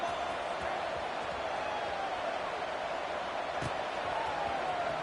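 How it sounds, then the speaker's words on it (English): Steady crowd buzz fills a stadium in a college football video game featuring Georgia Tech, a continuous broad murmur at constant loudness, with a brief sharp knock near the end. "this crowd is buzzing after that last score"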